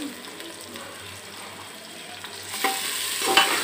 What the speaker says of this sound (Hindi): ये प्याज को अच्छी तरह से मैं ब्राउन कर लूँगी